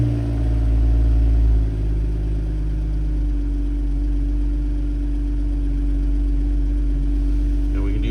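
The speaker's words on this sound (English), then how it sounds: "We're going to start the vehicle up." A BMW X4 engine runs at a steady low idle, close and continuous, after a slightly louder start at the beginning.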